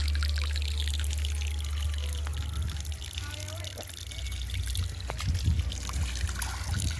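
Water from a long hose pipe pours and trickles onto a concrete roof slab in a soft continuous stream, with faint voices in the background.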